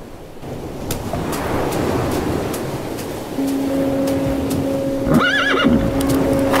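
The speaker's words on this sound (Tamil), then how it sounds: "நீங்க சூப்பரா குதிரை ஓட்டுறீங்க" A horse neighs and whinnies loudly near the end while hooves and rumbling outdoor noise run steadily beneath, with a sustained tone entering partway through.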